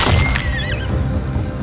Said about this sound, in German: Dir, Odin, König der Götter, opfern wir dieses Pferd.